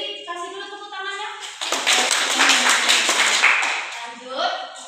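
Schoolchildren in a second-grade class clap together for a couple of seconds, fairly close, framed by a teacher's voice talking before and after the burst.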